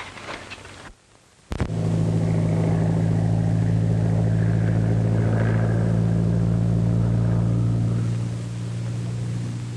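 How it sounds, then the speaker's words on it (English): A 1939-era patrol plane droning overhead, a steady loud engine hum that starts abruptly after a brief dip and holds constant, easing slightly near the end. "It's a plane."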